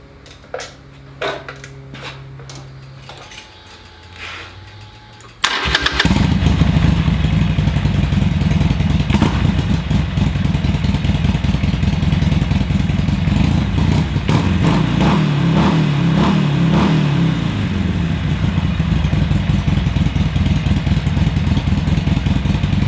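A 1992 Harley-Davidson Low Rider Sport Edition FXRS-SP engine starts up after a few seconds of faint clatter, then runs loud and close at a steady idle with a rough rumbling throb, rising briefly in a slight rev midway.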